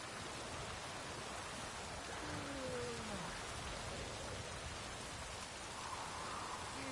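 Steady rain falls in a town, a constant dense hiss of drops on surfaces, fairly faint and uniform throughout with no voices.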